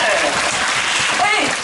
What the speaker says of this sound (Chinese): 是不是给他们一个热情的掌声？